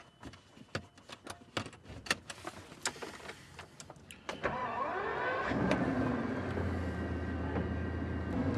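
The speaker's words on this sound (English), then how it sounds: "So we're rolling out of this service station now in the middle of Germany" A Bugatti Veyron pulls away from a service station in Germany near midnight, with scattered clicks and knocks from inside the car before the engine rises into a steady, loud drone that holds from there on.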